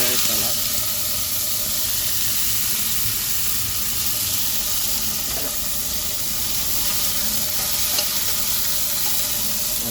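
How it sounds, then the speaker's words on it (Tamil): Onions and curry leaves fry in hot oil, a close, continuous sizzle with stirring scrapes and occasional clinks, steady and fairly loud, with no clear speech. "வெங்காயத்தலை போட்டு வைக்க எண்ணெய் நல்லா காஞ்சிட்டு கருவேப்பிலை சேர்த்துருக்காங்க."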